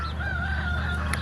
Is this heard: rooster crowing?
yes